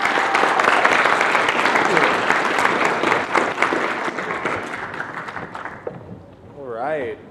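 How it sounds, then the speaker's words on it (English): An audience at a student pitch competition claps in a sustained round of applause that gradually thins out, ending with a few scattered claps and a short whistle-like tone. "one more round of applause for all the students that have competed today"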